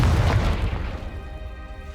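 A Confringo fire spell bursts in Hogwarts Legacy on PS5 with a loud, close boom that swells at once and then rolls off into a long, fading rumble, with no voices over it.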